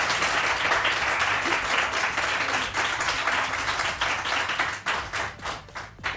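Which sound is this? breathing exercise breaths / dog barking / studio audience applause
studio audience applause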